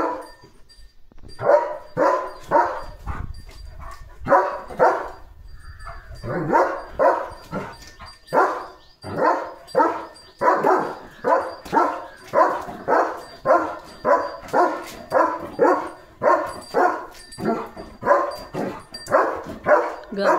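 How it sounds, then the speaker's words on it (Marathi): A German Shepherd barking in a rapid, regular series of loud, close woofs, dozens of barks in steady rhythm after a few initial bursts and brief pauses. "तयारच आहे लगेच भुंकायला"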